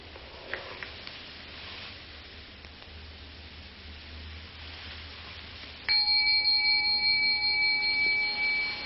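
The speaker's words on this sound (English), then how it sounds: "the bell came out of nothing, floated off, and then stopped being a sonic echo and became a memory" A bell is struck once out of near silence, its clear, steady ringing tones sustaining loudly for a few seconds and then beginning to fade.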